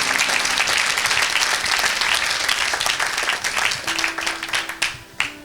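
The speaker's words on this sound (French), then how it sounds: "Clap your hands." A church congregation clapping their hands together, a dense sustained wave of applause that stays loud and full before thinning out at the end.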